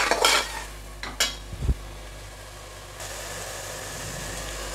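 Salted tomatoes sautéing in a pan are stirred with a few sharp spatula scrapes and clinks, then settle into a soft, steady sizzle.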